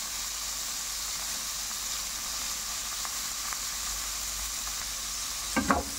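Vegetables and bagoong shrimp paste sizzle steadily in a hot pan during a stir-fry, a constant crackling hiss close to the mic, ending with a brief clatter of stirring.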